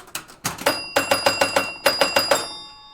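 Pinball machine bells ring out loudly and close by, about a dozen sharp metallic strikes in a quick irregular rhythm, each leaving a bright lingering tone that rings on at the end.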